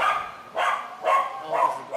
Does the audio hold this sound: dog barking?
yes